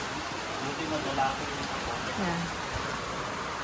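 Steady rain falls as a continuous hiss of broadband noise throughout, while people talk over it.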